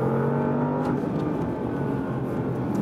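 Porsche Panamera Turbo S Hybrid driven fast on a slightly wet racetrack in Sport Plus mode, its engine holding a steady tone that drops off after a second into a rougher rumble, moderately loud, with no talk.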